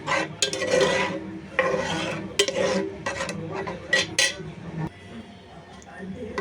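A spoon scrapes and stirs tomato pulp and juice in a curry pot in a series of rasping, clinking strokes against the metal, close and fairly loud, while a person talks in the background.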